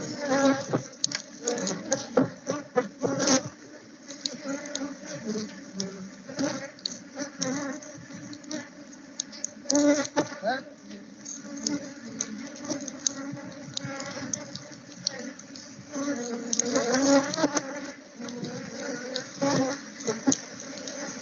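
A dense, steady insect buzz fills the air, with many bees droning close by and swelling louder at moments, no talking.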